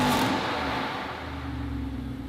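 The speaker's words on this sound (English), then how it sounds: "I love how Dave rev everything cold." A car engine revved while cold gives a loud roaring rev at the start that fades into a steadier mid-pitched drone, close by and with no talk.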